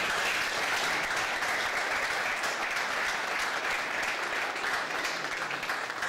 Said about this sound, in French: Je pense que les jeunes Simon de Beauvoir mériteraient un applaudissement assez chaud.